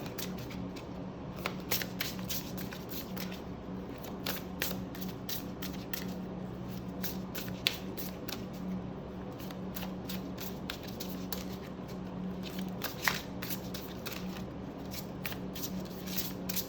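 Tarot cards are shuffled repeatedly up close, a soft riffling and flicking that continues in quick bursts throughout, quiet and without talk.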